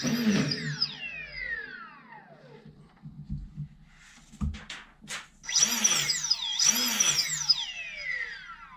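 A brushless flywheel motor upgrade in a Prometheus foam blaster, with its flywheel bolts still loose, whines up to speed and winds down in falling sweeps, then spins up twice more in short close bursts. No one speaks.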